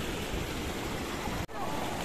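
The Atik waterfalls in Morocco, a steady dense rush of falling water heard close and fairly loud, continuous throughout with one brief dropout.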